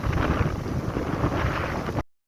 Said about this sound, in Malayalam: അല്ലെങ്കിൽ ഭയങ്കര കാറ്റാണ്